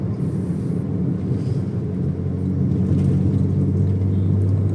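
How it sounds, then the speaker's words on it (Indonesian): A modified Toyota Vios Limo GR TRD Sportivo taxi on a test drive makes a low, steady road and engine rumble from inside the cabin, with the drone rising slightly toward the end and a little wind noise. "Mari kita test drive di depan ya, ke Antasari."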